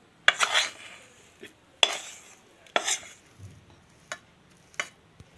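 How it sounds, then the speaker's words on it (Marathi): Roasted besan (chickpea flour) for Diwali laddoos is scooped from the pan onto a plate and spread out. A spoon or pan clanks sharply against metal a few times, with light scraping and quieter taps between. "आता थंड होण्यासाठी एका प्लेटमध्ये काढून घेऊ आता ताटात काढून पसरून घ्यायचं"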